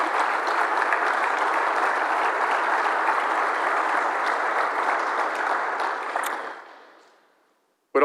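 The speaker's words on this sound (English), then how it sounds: "So if you'll join me in giving them a round of applause." A round of applause at a baseball coach's introductory press conference, a steady roomful of clapping holding for about six seconds before tapering off into silence.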